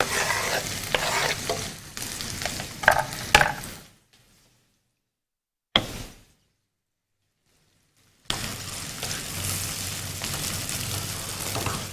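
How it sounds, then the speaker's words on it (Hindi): Onions sizzle in hot oil with a steady frying hiss and occasional stirring clatter, close by; the sound cuts out completely for a few seconds midway, then resumes as a continuous sizzle. "तो ऑयल में मैं शामिल कर रही हूँ प्याज"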